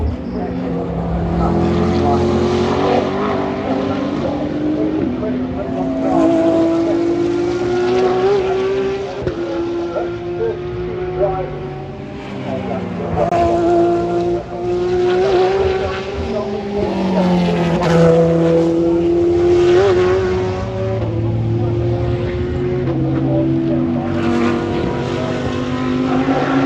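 IMSA Sahlen's Six Hours of the Glen endurance race cars at Watkins Glen, a loud continuous roar of engines shifting pitch as cars pass and rev, with a voice talking over it throughout.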